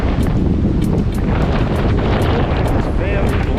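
Strong outdoor wind buffets the microphone in a loud, continuous rumble throughout, with gusty surges and no clear talk.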